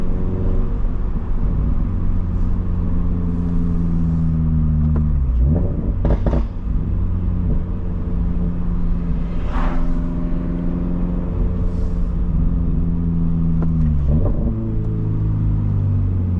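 Subaru BRZ with a loud exhaust cruising under steady engine drone, with two sharp rev blips during downshifts from third to second gear, heard from inside the car.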